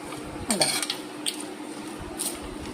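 Aval masala, a flattened rice mixture with green chillies, stirred in a pan: soft scraping and clinks of a spoon against metal, a few brief strokes close up with quiet squishy texture.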